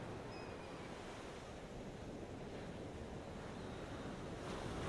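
Ocean surf at Venice Beach, California, a steady broadband wash of waves with wind buffeting the microphone, continuous and fairly even, swelling slightly toward the end, with no voices.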